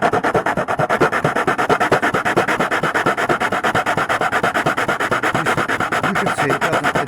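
Hand sanding along the edges of a model aircraft carrier flight deck, a fast, steady back-and-forth rasping stroke repeated evenly and close up, with no talk.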